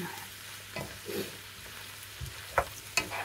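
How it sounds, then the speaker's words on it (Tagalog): Roasted garlic is stirred in a frying pan, giving a faint, steady sizzle with soft scraping stirs and a couple of sharper clinks near the end. "ilagay na natin ang ating roasted garlic"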